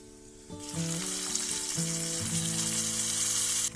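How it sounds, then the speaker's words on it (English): Hot oil tempering with hing and curry leaves poured onto curd, bursting into a loud, sudden, bright sizzle that holds steady for a few seconds over soft background music. "Now add the tempering to curd."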